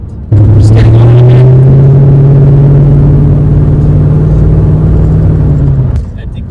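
The engine of a V8-swapped 1990s Holden VS Commodore revs hard close up in one sustained pull that climbs steadily for about six seconds, then cuts off sharply. It is a loud, deep, throaty note.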